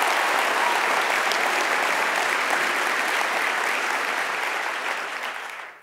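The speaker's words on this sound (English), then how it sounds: "give our guys a round of applause" Sustained applause from a large conference audience, dense and steady clapping throughout before fading slightly at the end, with no talk over it.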